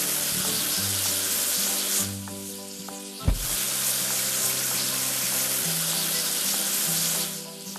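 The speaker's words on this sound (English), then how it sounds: "Now let's wash off the rest of the foam." Water spray rinsing leftover foam off a construction machine in a children's building game, a steady hissing wash that runs continuously with a brief pause and a sharp splash near the middle, over light game music.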